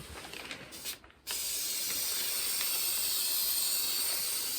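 A short rustle, then a loud, steady aerosol hiss starts as a spray can is sprayed onto vinyl panels for a camper van interior, continuing without pause, close to the listener.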